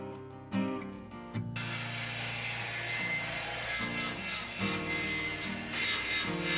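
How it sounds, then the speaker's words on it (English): Power tools mill cherry wood boards to width and length, a steady loud motor whine with a droning hum and rough cutting noise throughout, after a brief clattering start. "I'm milling the boards, cutting them to width and length."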